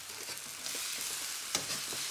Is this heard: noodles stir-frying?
yes